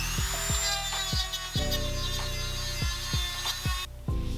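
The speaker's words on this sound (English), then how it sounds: "I just use a Dremel and a sanding drum." A high-pitched Dremel with a sanding drum whines steadily while grinding powder coating off a Puch Magnum moped's metal crank arm, the motor pitch dipping briefly with each pass and pause.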